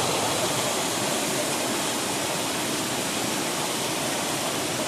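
A waterfall at Cachoeira do Canão roars as a loud, dense and unbroken rush of falling water close by, steady from start to finish with no voices.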